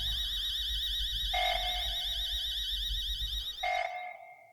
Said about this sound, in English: How do you turn off the alarm?